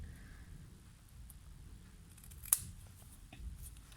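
Scissors trimming cardstock for a handmade scalloped greeting card, a single crisp snip standing out over a quiet room background, near and fairly soft.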